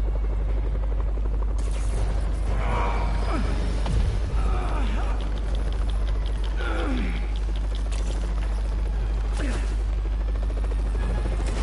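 A helicopter in the Spider-Man PS4 video game drones steadily at a low pitch, loud and unbroken, with game effects and short bursts layered on top.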